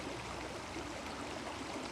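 A stream flows steadily in an outdoor landscape, a continuous broadband rush of water that holds even and unbroken throughout, with no voices heard.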